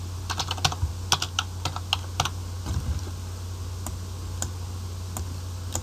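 Keystrokes on a computer keyboard while payroll details are entered, clustered bursts of close, crisp clicks separated by pauses, with a steady low hum underneath.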